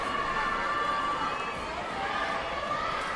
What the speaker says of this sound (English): Something for the crowd to cheer